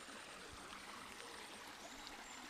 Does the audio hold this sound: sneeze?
no